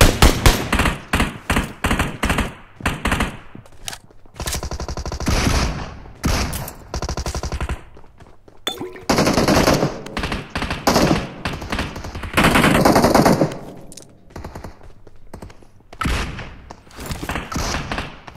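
Automatic and single-shot gunfire in PUBG Mobile, loud, close bursts repeating throughout in rapid clusters with brief gaps between volleys.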